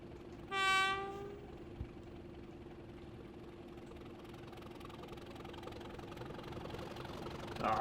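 A 1950s-era train on the Stour Valley Railway in Train Simulator Classic leaves Haverhill station: a brief horn blast near the start, then a steady engine drone and rolling rumble that builds slightly toward the end.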